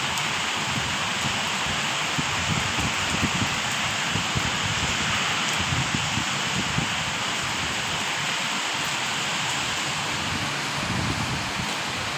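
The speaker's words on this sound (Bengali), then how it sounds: "অনেক জোরে বৃষ্টি হইতে আছে" Heavy rain pours down in Dammam, Saudi Arabia, a dense, unbroken roar of water striking surfaces close by that stays steady throughout.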